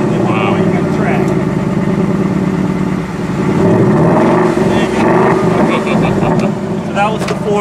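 A 2018 Ford Mustang GT V8 with active exhaust rumbles loud and close, its engine note swelling and easing as the revs rise and fall, with a person talking over it.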